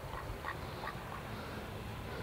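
Ducks quack repeatedly at bedtime outdoors, several calls scattered over a steady background hiss, moderately close and fairly soft.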